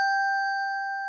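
A G6 handbell and a G5 handbell chime sound together in a single clear, sustained two-pitch ring at a handbell workshop, close and alone, cut off while still ringing.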